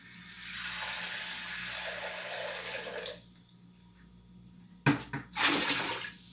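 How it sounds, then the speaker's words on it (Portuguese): Water pours steadily into a bucket to thin a homemade wooden-floor care mixture, a loud rushing stream for about three seconds, then quiet, followed by a few short splashes and sloshing near the end. "Aí vou acrescentar água aqui até ela ficar uma temperatura que dê pra me mexer."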